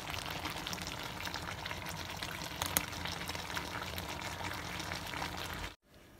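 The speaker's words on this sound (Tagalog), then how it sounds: "nagpapakulo na po na tayo ng tubig para sa" Water heating in a pot for pasta gives a steady, soft bubbling and hissing boil, continuous and fairly faint, with no talk over it.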